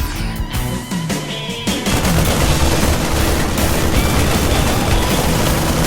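Siege tanks firing in a StarCraft II match, a dense barrage of booming shots and crackling blasts that thickens into a constant roar of battle noise.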